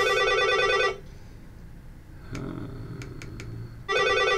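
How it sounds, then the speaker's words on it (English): Telephone ringing for an incoming call: a loud, bright electronic ring tone sounds for about a second, falls silent through a quiet gap with a few faint clicks, then rings again at the end. "And I'm getting a phone call, so let's see who it is."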